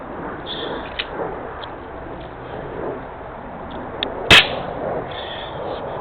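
A .25 calibre Gamo Big Cat air rifle fires one sharp, loud crack over a faint background hiss, with the shot dieseling slightly from pellet lube.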